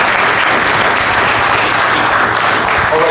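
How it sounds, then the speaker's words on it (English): A big, loud round of applause from a boxing-event audience fills the whole stretch, dense and steady, with a faint voice surfacing near the end. "Let's give that a big round of applause."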